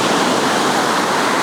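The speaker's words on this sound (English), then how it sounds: "We're capturing the water going out." Sea water at Ayrmer Cove in Devon washes back out over the shore, heard as a loud, steady broadband rush of surf with no break and no voices.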